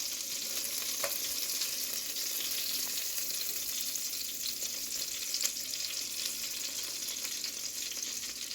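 Chicken pieces frying in a pan for a creamy lemon sauce dish, giving a dense, steady sizzle with occasional small pops and crackles, close and continuous, with no talking.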